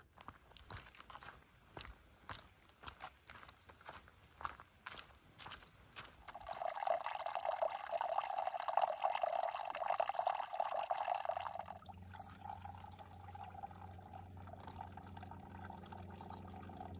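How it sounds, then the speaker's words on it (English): Spring water trickling at the source of the Chattahoochee River on a Georgia mountainside along the Appalachian Trail: faint scattered drips and crunches at first, then a steady bright gurgling trickle for several seconds before fading to a soft murmur. "is the spring, which is the source of the Chattahoochee River"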